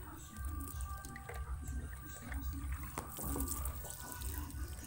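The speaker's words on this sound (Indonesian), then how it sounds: "ini juga kita siram secara merata biar jahe ini cepat tumbuh" Water poured over ginger plants in polybags, a soft steady splash and patter with scattered drips, faint and close.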